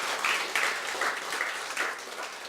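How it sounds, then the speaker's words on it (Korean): A church congregation applauds the choir steadily during a Sunday service, a dense wash of many hands clapping together at moderate distance, sustained throughout without speech. "우리 다시 한번 우리 성가대를 위해 박수로"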